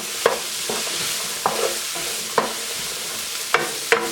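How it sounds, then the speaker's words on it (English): Mushrooms with celery sautéing in a pan for chicken fricassee, stirred with a spoon: a steady low sizzle under a run of sharp scraping stirs, about five or six spaced strokes, close up with no talking. "let that saute down while using our spoon"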